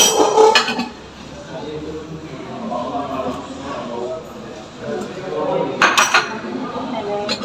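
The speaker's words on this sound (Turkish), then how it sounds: "karıştırıyorum şu anda." A spoon clinks against a tea glass in a few quick bursts, stirring tea, with people talking in the background.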